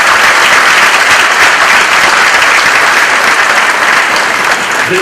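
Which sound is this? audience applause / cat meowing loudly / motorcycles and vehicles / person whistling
audience applause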